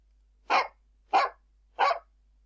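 A dog barks three times, evenly spaced and fairly close, with silence between each bark.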